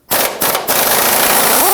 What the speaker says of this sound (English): We're going to use our socket, our swivel, and our impact gun to loosen and remove this nut.